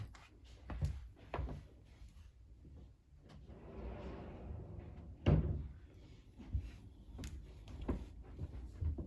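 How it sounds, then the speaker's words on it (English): An indoor door being shut, with a muffled thump and rustling handling noises around it, faint and close, with no talking. "Let me shut the door and put out the noises in the background."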